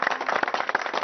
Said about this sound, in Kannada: ಓಕೆ, ಅವ್ರಿಗೊಂದು ಚಪ್ಪಾಳೆ ಇರಲಿ.